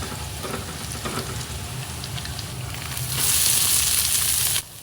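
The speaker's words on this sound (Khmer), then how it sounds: "ដាក់បំពងខ្ទឹមសសិនមិនបាយឆាយើងឈ្ងុយ" Garlic sizzles in hot oil in a pan for Khmer beef fried rice, a steady close crackle that flares louder and hissier for the final second and a half before cutting off abruptly.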